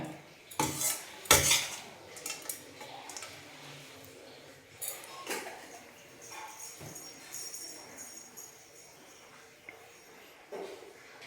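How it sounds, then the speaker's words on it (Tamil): Coconut rice being mixed in a pot with a metal spoon, giving loud clinking and scraping strikes near the start, then lighter intermittent scrapes and taps against the pot, with no voices. "இதை இப்போ நம்ம அப்படியே கலந்து கொடுத்துடலாம்"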